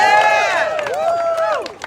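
A crowd at a Women's March rally cheers for a slate of judicial candidates, with high gliding whoops and yells over steady crowd noise and scattered claps near the end.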